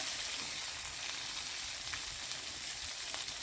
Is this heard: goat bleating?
no